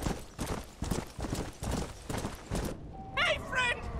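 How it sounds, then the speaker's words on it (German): Horse hooves clip-clop at an even trotting rhythm while riding in Red Dead Redemption: Undead Nightmare, with a brief whistle-like call near the end. "Aber für den Moment reiten wir wieder mit Ferdinand."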